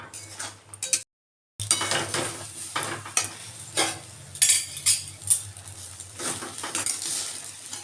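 A spoon scrapes and stirs semolina and milk powder dough in a pan over low heat, with repeated close, sharp scraping strokes and taps in an irregular rhythm and no talking.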